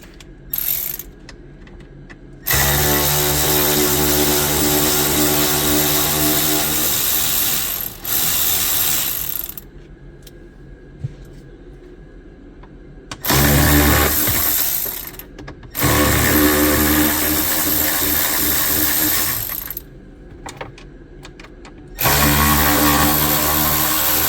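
Power ratchet spinning out T30 Torx screws from a Land Rover Range Rover Sport HSE dashboard, several long loud ratcheting whirs separated by quiet gaps, close up.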